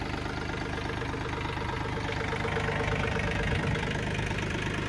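A Mahindra Oja 2127 4WD tractor engine runs steadily at 1800 RPM, a close, continuous diesel drone with an even knocking rhythm and no talk over it.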